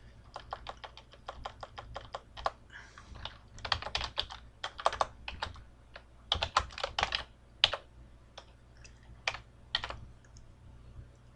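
Rapid typing on a computer keyboard while editing a link name, with close, crisp key clicks in irregular bursts and short pauses, no voices.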